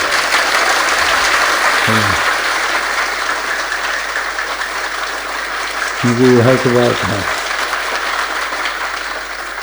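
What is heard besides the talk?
audience applause at a mehfil gathering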